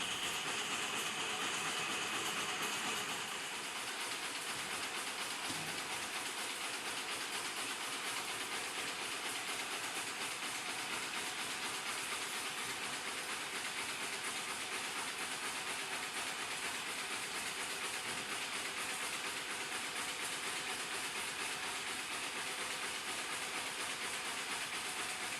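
A nail polishing machine at a nail-making factory runs loaded with nails and sawdust. It gives off a continuous, dense rumbling and hissing churn at an even level, loud and steady throughout with no pauses.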